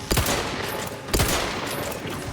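An electric gun fires in the Outer Worlds 2 video game, two loud bursts about a second apart, each crackling briefly and fading into a steady hiss.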